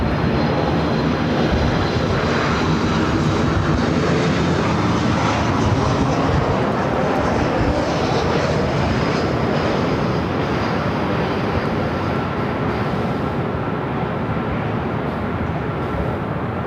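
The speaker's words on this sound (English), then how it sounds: "Flight to Kahului, now rolling down the 24 left." An airliner bound for Kahului rolls for takeoff down runway 24L at LAX, its engines a loud, steady roar filling the air for the whole stretch with no voices.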